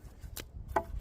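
Axe strikes on wood at a forest bushcraft camp, two sharp separate chops about a second apart, close and fairly quiet against an outdoor background.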